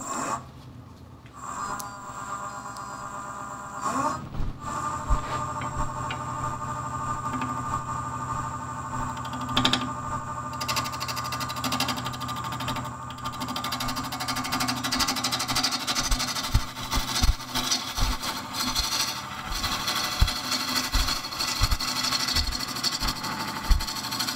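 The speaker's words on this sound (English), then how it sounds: "I'm going to make a couple more cuts on the outside to true it up" Wood lathe spinning a natural edge burl bowl as the outside is trued up, a continuous droning hum with scattered knocks and rough cutting bursts that grow busier later, close and steady with no speech.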